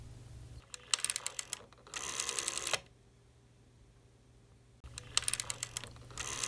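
Bursts of rapid clicking from the contact inside an old rotary telephone dial opening and closing, three separate clusters of fast mechanical ticks with short quiet gaps between them over a low steady hum.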